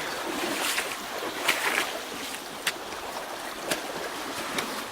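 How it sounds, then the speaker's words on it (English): A vehicle fords a creek on the Dolly Sods trail in West Virginia, with steady broad splashing and water rush throughout, marked by a few sharp surges as the wheels push through the crossing. "Alright, so that is our second water crossing. Second real major water crossing for the day."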